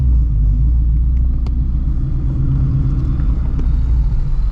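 Deep, steady exhaust rumble from a straight-piped Shelby GT350 cruising through the city at night, heavy low-end drone held at a fairly constant level rather than sharp revs.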